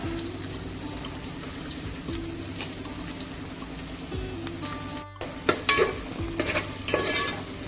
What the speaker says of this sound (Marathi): आपल्याला कांदा चांगला शिजू द्यायचा आहे